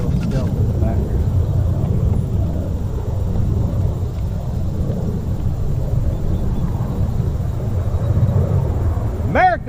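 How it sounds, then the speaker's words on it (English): A stealth bomber flying overhead near a dam during summer bass fishing, a steady low roaring rumble that holds loud throughout, with a brief voice near the end. "See that stealth bomber?"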